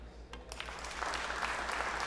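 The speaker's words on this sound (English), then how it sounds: "the round of applause you can hear is from the table next door" Applause from a neighbouring pool table at the 2022 Predator World 8-Ball Championship, a steady mid-distance patter of clapping that swells after the first second and holds, with a faint low hum beneath.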